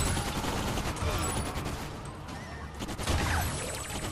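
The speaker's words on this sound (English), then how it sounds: "I'm loving the shotgun though." Shotgun fire in the Bulletstorm VR shooter game, a dense, continuous barrage of loud blasts and crashing impacts with no gaps, close and heavy throughout.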